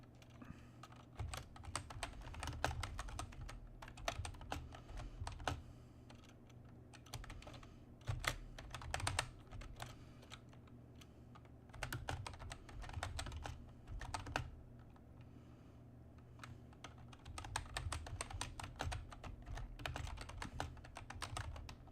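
Typing on a computer keyboard, quiet clicks in irregular bursts and pauses over a low steady background hum, close and faint, with no speech.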